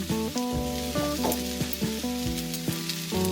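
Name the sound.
garlic sizzling in a pan for caponata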